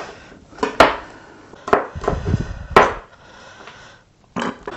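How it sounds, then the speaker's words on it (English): A kitchen knife chops an onion on a board for a Goan fish curry, sounding as several separate sharp thuds spaced apart and close by, with knocks in between and a gap near the end. "Now I need to just finely peel and finely chop the onion."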